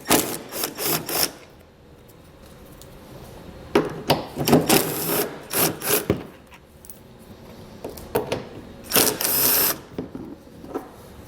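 T30 Torx fasteners are backed out of the front bumper fascia of a 2018 Ram ProMaster City van, with bursts of whirring power-driver ratcheting and clicking separated by quieter pauses.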